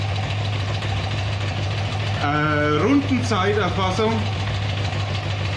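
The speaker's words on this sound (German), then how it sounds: "Wenn der Motor auf Temperatur ist, läuft er auch noch ein bisschen höher in der Drehzahl." A classic BMW two-valve boxer motorcycle engine idles steadily with an even low throb throughout, while someone talks over it for a few seconds in the middle.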